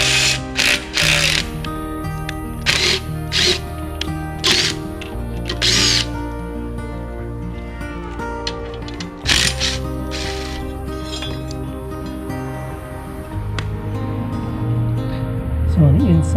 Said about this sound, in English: I'm using a small impact driver with a